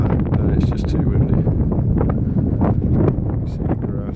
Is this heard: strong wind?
yes